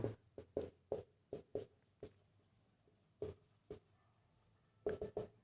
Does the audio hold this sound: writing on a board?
yes